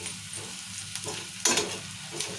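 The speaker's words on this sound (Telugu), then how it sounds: "ఇట్లా ఎర్రగా వేయించుకోవాలి కలుపుకుంటూనే ఉండాలి" Onions frying and being stirred in a pan until reddened, a continuous close sizzle with a few louder scrapes and knocks of the spoon partway through.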